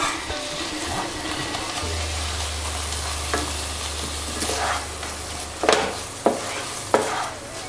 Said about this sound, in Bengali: খুব ভালো করে দুধের সঙ্গে ক্ষীরটাকে মিশিয়ে নিচ্ছি।